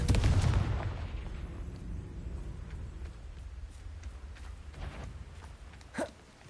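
Confringo and Bombarda spell blasts in the Hogwarts Legacy video game: a loud, booming blast opens and slowly fades into a low rumble, then a smaller sharp pop follows near the end.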